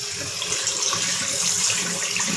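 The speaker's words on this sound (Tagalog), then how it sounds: "ngayon subukan natin siyang ilagay sa malamig na tubig kung babalik pa siya sa kanyang closed position" Cold tap water runs steadily over a thermostatic valve, a continuous close splashing flow with no breaks and no talking.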